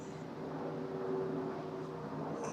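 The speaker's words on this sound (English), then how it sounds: "that plane, it sounds like it's right over me" An airplane passing close overhead, a steady droning engine roar with a sustained tonal hum that holds evenly and loudly throughout, with no voices over it.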